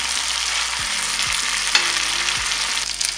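Chicken fries on a hot tawa over medium flame with a loud, constant sizzle, with occasional sharp scrapes and taps as the pieces are turned.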